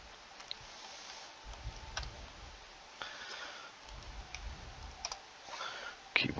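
A computer keyboard that keeps glitching is typed on in scattered, quiet clicks and taps spread across the stretch, with no clear talking over them.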